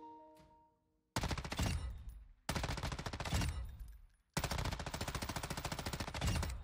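M13B assault rifle firing in Warzone 2, three rapid full-auto bursts with tight, evenly spaced shots, loud and close, separated by short pauses, with a fading ring-out before the first burst and no talking.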